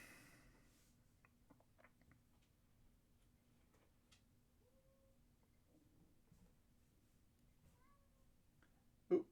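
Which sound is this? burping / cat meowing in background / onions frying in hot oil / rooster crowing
cat meowing in background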